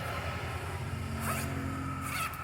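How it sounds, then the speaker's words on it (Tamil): A zipper on an XXL pure cotton nighty is run twice, each pass a quick rasping zip, close and clear against a quiet room. "ஜிப்பு."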